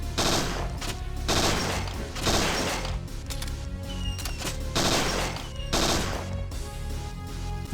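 Rapid gunfire at a timed target range in Parasite Eve II, repeated bursts of shots in clusters with short mechanical clicks and clatter between them, loud and up close.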